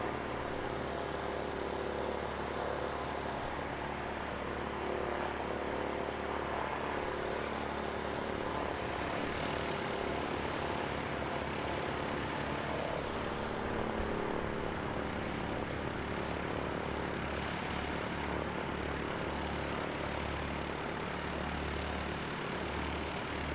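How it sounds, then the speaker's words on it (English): ATR turboprop airliners arriving at Christchurch Airport, New Zealand: a steady, distant propeller and engine drone that holds for over twenty seconds with slight swells, no speech over it. "Two more ATRs inbound."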